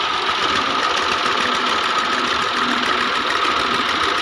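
Ferguson tractor engine pulling a loaded trolley, a loud continuous diesel chug with a knocking rhythm and steady vibration, close by and running alone without voices.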